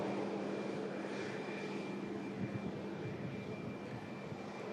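A British Airways aircraft on approach into Heathrow produces a faint, steady engine roar, distant and unbroken, with no talking.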